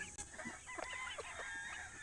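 Chickens cluck and chatter softly in the distance, several birds calling over a steady background hiss.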